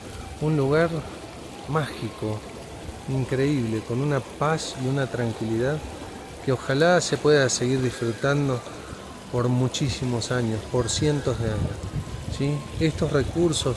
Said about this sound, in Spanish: este ruido que están escuchando ustedes, ¿sí? Esto, el agua limpia, el agua cristalina